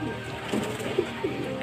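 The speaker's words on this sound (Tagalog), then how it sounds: "Dyan po ang ating mga kalapate ngayon." Pigeons coo softly in a loft, a few low burbling calls close by over a faint background murmur.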